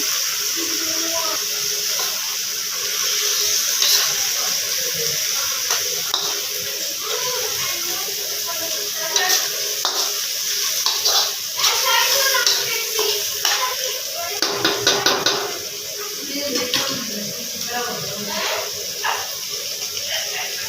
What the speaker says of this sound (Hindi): अब इसकी टमाटर में अच्छी तरह से भुनाई करेंगे।